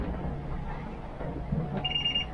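Aboard a sailboat sailing solo in fog, the radar alarm starts up near the end as a thin, high electronic ringing tone over a low cabin rumble and hiss.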